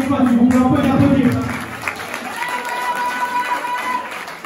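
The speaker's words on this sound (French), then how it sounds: "Ok, on peut les applaudir encore une fois, si vous voulez, on peut les applaudir." Crowd applauding dancers at a hip hop dance battle, loud clapping and cheering heard close with music and a voice over it at first, then settling into sustained applause with a lingering tone.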